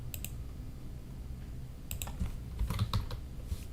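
Keystrokes on a computer keyboard as a package name is entered into a search box, short clusters of clicks near and moderately loud, with pauses between bursts and no talking.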